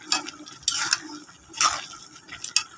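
A spoon stirs a pot of mixed vegetable curry with dried fish, making four or five scraping, clinking strokes in an uneven rhythm, close and clear over a faint simmer.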